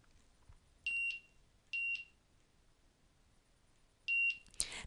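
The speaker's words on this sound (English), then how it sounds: "That beep that you hear is the device scanning a barcode." Three short, high electronic beeps from a mobile inventory device scanning barcodes in a quiet room, two close together and a third after a pause, followed by a brief click.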